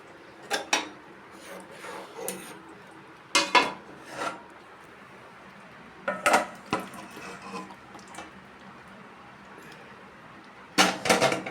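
Okra curry (bhindi rosa) tipped from a cooking pan into a serving dish in a home kitchen, heard as scattered clinks and scrapes of metal cookware and a spoon in short bursts, with a few louder clatters and no talk.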